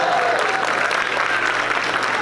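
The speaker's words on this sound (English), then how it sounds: "Let's give our senator another round of applause." Audience applause for a senator at the opening ceremony of a New Year celebration, a dense, steady round of clapping from a large crowd that holds at a constant level from start to finish.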